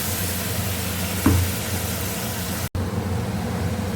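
Grated poppy seed, melon seed and white sesame paste goes into oil with fried onions, giving a close, even sizzle and stirring hiss, with one soft knock and a brief dropout partway through.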